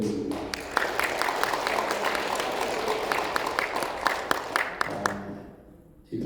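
Church congregation clapping together during a Sunday worship service, dense continuous applause with sharp individual claps standing out, dying away abruptly near the end.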